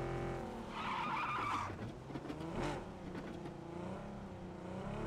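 A car engine roars at full throttle in a video game, loud and continuous, with tire skids and squeal cutting in.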